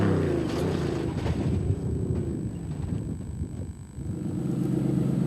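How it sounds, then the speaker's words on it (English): Ford Performance Ranger race truck in an endurance race at Vryburg, bouncing over rough terrain, its engine a steady loud rumble with wind buffeting throughout and no voices. "Visser and Badenhorst are giving it everything they've got as their Ford Performance Ranger bounces its"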